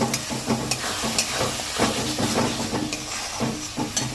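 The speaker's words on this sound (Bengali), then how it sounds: "এবার এটা দিয়ে কষানো, খুব ভালো করে আমি একটু কষাবো।" Spice masala for Bengali chicken maharani sizzles and hisses in a pan while being stirred, a steady close frying sound broken by rhythmic scraping strokes.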